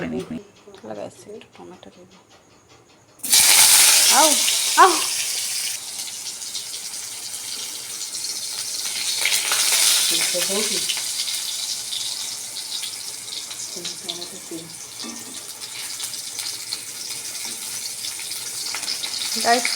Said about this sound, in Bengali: এখানে ফোড়ন হিসেবে জিরে দিয়েছি তেলে এত তেল ছিটকাচ্ছে যে কি বলবো জিরেটা ফুটছে